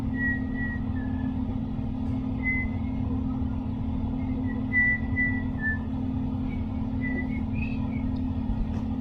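Someone whistles a light, wandering melody in short phrases, fairly faint over a steady low hum and background rumble.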